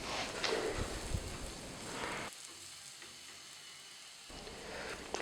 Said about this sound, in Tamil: இதில் பெருங்காயத்தூள் போட்டு வதக்குவோம்